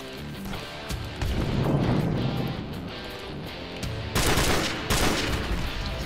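Gunfire in the Modern Warfare video game, including sniper rifle shots, comes as a dense mix of shots and impacts with a few sharp, loud cracks standing out near the end.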